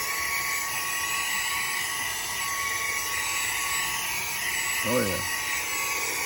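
SAKER 3-in-1 vacuum cleaner running with a steady high-pitched motor whine throughout, close and loud, while someone speaks briefly over it.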